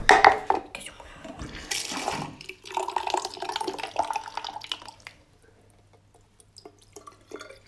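Tap water runs loudly into a container for a pet fish, splashing and dripping at first, then tapering to quiet drips and near silence.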